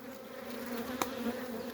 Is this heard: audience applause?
no